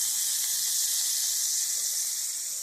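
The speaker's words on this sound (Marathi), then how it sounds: "आता तव्यावर मी चांगलं तेल टाकून घेतलेलं आहे, 2 चमचे तेल टाकून घेतलेलं आहे आणि आता त्याच्यावर मी कारले टाकून घेते आणि चांगलं परतून घेणार आहे." Bitter gourd fries in about two spoons of oil on a pan, giving a steady, close, even hiss of sizzling that holds without a break and has no talk over it.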